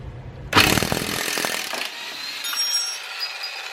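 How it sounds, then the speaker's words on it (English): An impact wrench loosens a lower control arm bolt on a 2003-or-later Saab 9-3, a loud close rattling burst lasting over a second before cutting off, followed by quieter shop noise. "Let's see if the impact can get it out the rest of the way again."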